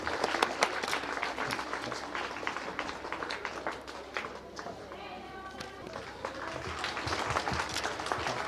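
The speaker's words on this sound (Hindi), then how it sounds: "जोरदार तालियां दीजिए।" Lively applause and crowd noise at a school annual day celebration, a busy stream of clapping that dips briefly in the middle and then picks up again.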